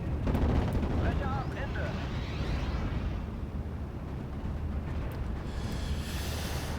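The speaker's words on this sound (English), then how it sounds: "Got a massive fire for effect shelling I can do." Massed artillery fire-for-effect shelling in the WWII strategy game Steel Division: Normandy 44, a continuous low rumbling barrage of distant explosions under a German-speaking radio voice.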